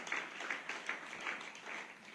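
A church congregation applauds during a service, a soft, distant patter of many hands that swells and eases in waves for a couple of seconds.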